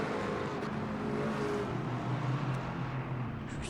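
Red McLaren race car engine in the Le Mans Ultimate racing game, a steady loud whining drone with shifting engine tones and a brief rise near the end.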